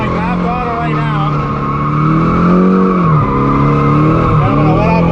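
Car drifting at half throttle, engine droning loud and steady while the tires squeal and skid continuously, with the pitch dipping briefly as the throttle eases before climbing back.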